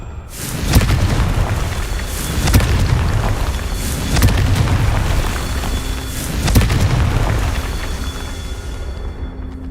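Repeated Confringo spell explosions in Hogwarts Legacy, several booming bursts landing every couple of seconds over a continuous loud rumbling game soundscape.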